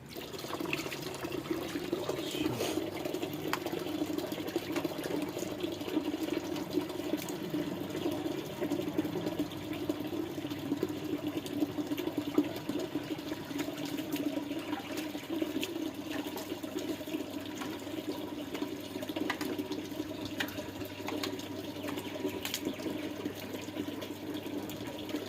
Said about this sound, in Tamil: தண்ணி திறந்துடுற கொஞ்சம்.